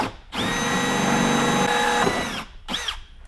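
A power drill cuts a hole into the body of a Club Car Tempo golf cart with a loud, steady whine lasting about two seconds, then stops, and a short second burst follows.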